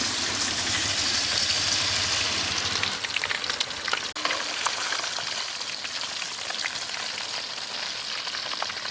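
Fish pakoda of small ayira fish frying in hot oil in a village outdoor kitchen, a steady dense sizzle and crackle throughout, loud and close, easing slightly after the first few seconds.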